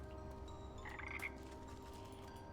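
Frogs croak in the Wytchwood video game, a steady low ambient chorus with a brighter burst of croaks near the middle, faint and continuous with no talking.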